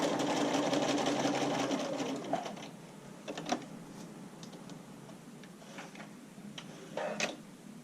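A sewing machine runs a quick straight seam through bra lining fabric, a steady rapid whirring stitch for about two seconds. Scattered light clicks and taps of fabric handling follow, close and fairly quiet.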